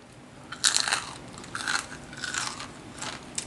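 Chewing crispy fried fish with a som tam meal, several loud crunching bites heard close up in bursts, with no talking.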